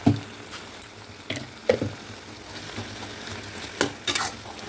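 Taro leaves being stirred with spices and sugar in a pan, a low sizzle under several distinct scraping strokes of the spoon, close and alone with no talking.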